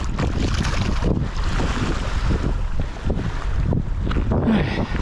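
Strong, steady wind buffets the microphone with low rumbling gusts, mixed with water sloshing around a boat on the water near a bridge.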